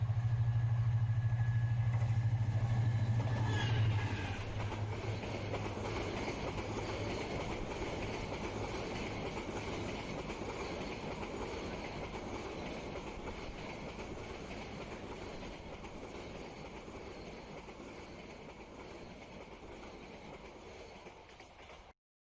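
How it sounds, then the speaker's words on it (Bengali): A train rolls past a railway level crossing at close range, opening with a loud horn-like low tone and then a long, steady rumble and rattle of wagons that slowly fades. "আমরা রেল গেটে অপেক্ষা করতে করতে একটা ট্রেনও চলে আসলো,"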